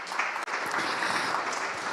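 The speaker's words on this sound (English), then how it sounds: "let's give a round of applause to our panelists for the beginning to encourage them" Conference audience giving a round of applause to panelists at an international forum on Ukraine and Crimea, a brief continuous burst of many hands clapping in a large hall.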